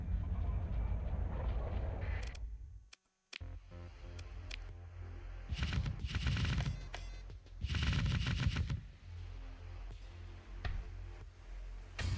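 Orc super cannon firing in the modded Starsector 0.98a space game: loud, dense bursts of booming gunfire in several clusters, with a brief silent gap early on, over a constant low rumble.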